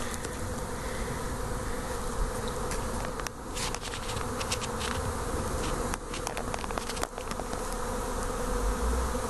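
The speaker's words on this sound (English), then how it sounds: "There's a lot of bees right here in the front." A swarm of bees gathered at the front of a box outdoors, a dense continuous buzzing that stays loud and close, with a few brief crackles and bumps.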